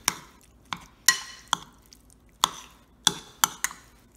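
Food being mixed with seasoning and salt in a bowl, about eight separate sharp clinks and wet taps at irregular intervals, close and crisp, with no talk.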